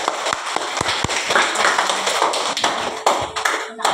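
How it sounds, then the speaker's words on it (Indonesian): A class of students gives a short round of applause, scattered claps and sharp taps at first that grow into a brief burst of clapping in a classroom, fairly close and without speech. "Tepuk tangan untuk kalian semua."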